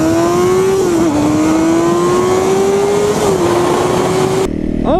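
A Honda CBR 600RR motorcycle engine holds a high, steady whine that climbs gradually through long gears, dipping briefly at shifts, loud and close and alone before cutting off at the end.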